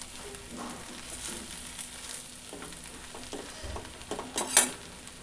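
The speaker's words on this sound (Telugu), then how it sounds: "తర్వాత అన్నిటిని బాగా మిక్స్ చేయాలండి" A spoon stirs and mixes uggani, a puffed rice dish with lemon juice squeezed in, in a pan just off the stove, giving soft continuous scraping and faint sizzling that builds into a few louder scrapes near the end.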